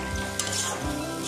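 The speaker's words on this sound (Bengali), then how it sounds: "মশলাটা আমি ভালো করে কষে নেব।" Spiced masala with tomato frying in oil in a pan as it is stirred, a loud close sizzle with quick scraping strokes throughout.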